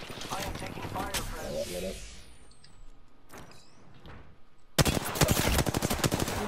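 Rapid bursts of automatic gunfire in a video game shootout crack loudly near the end after a quieter stretch, with players talking over the game audio beforehand.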